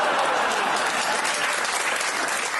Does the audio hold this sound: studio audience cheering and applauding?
yes